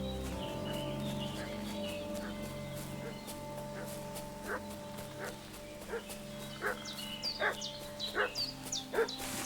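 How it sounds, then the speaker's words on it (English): Dog barks in Kingdom Come: Deliverance II, a series of short, sharp woofs in the second half, moderately loud over a steady outdoor ambience with a low hum underneath. "What's that dog making such a fuss about?"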